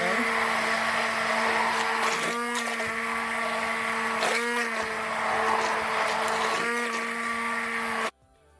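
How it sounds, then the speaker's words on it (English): A hand blender whirs loudly through a pumpkin punch mixture in a steady high-pitched drone, dipping briefly in pitch a few times as it works, then cutting off sharply at the end. "So now here I have my hand blender, guys."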